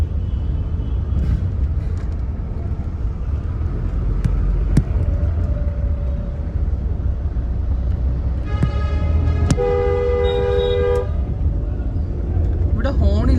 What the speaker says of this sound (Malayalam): എല്ലാത്തരം ഹോണുകളും കേൾക്കാം ഇവിടെ.